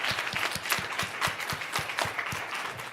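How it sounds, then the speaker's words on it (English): Audience applause at an academic event on nature, heard as a steady burst of clapping with distinct individual claps in a fairly regular rhythm, close and moderately loud throughout. "let's give everyone a round of applause"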